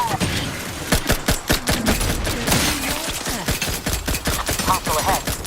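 Rapid gunfire from a firefight in The Outer Worlds 2 cracks out in a fast, sharp string of loud shots, with a short pause partway and no talking.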